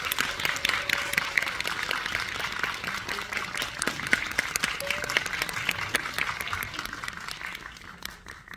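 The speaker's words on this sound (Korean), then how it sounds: "큰 박수 부탁드립니다" An audience at a film screening of Firefighters, with the director and lead actor arriving, claps continuously, individual sharp claps standing out from the steady crowd applause, with faint voices now and then.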